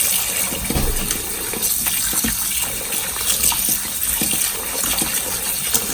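Cold tap water runs steadily over vegetables being rinsed of fish sauce. It is a loud, continuous gush and splatter, with small knocks of produce shifting under the stream.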